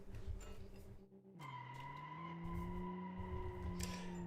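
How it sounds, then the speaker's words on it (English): A muscle car with tall tires in the BeamNG driving game spins its wheels, its engine note dropping and then rising in a steady whine through a gear change, with tire scrub underneath and no voice. "Just lots of wheel spin."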